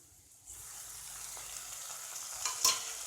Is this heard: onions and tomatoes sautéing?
yes